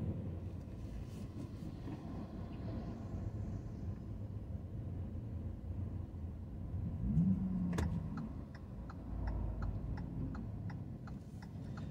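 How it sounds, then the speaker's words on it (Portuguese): Heavy car traffic flows along a busy road in Salvador with a steady low rumble of passing vehicles, a swell as one goes by close, and faint ticking in the background. "O fluxo de carros é muito grande."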